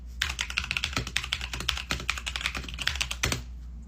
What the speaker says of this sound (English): You guys, I got this new keyboard.